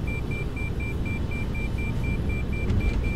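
Repeating electronic cockpit beeps in a Boeing 747 flight simulator game, a steady evenly spaced tone pulsing through the whole stretch over a constant rumble of engines at takeoff power.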